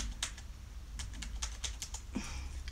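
Quiet, close typing on a computer keyboard, a string of light irregular key clicks at a steady working pace with no voices.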